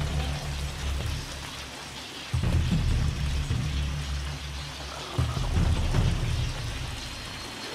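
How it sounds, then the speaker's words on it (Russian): Water pours and splashes onto a wheel in the video game Shadow of the Tomb Raider, a steady rain-like rush that grows louder in two sudden surges and carries on without pause. "Еще нужно, чтобы вода лилась на колесо."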